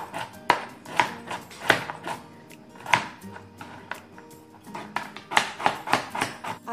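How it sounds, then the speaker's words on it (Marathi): Dried coconut pieces are cut small on a kitchen cutter, producing irregular sharp knocks and crunches, several in quick succession with brief gaps, close and fairly loud with no talking. "मी आता या कटरवर याचे छोटे छोटे तुकडे करून घेते."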